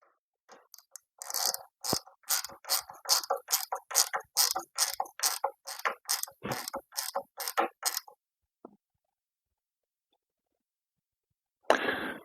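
A ratchet tightening the carburetor on an old Simplicity mower, a steady run of about sixteen sharp clicks over eight seconds, close and alone, followed by silence and then one more brief burst.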